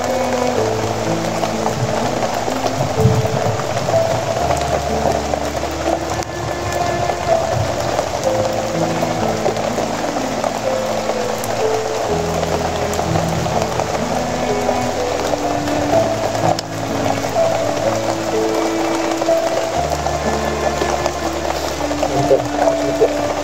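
Steady rain pours down outdoors, a dense continuous hiss of drops with low tonal hum beneath, loud and unbroken throughout.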